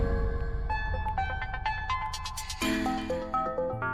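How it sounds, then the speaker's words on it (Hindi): A mobile phone rings with an incoming call, playing a melodic electronic ringtone of stepped bright notes. It sounds clear and fairly close, with no speech over it. "अब इस वक्त इसका कैसे फोन आ गया?"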